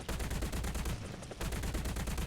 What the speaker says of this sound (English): You can shoot at aircraft.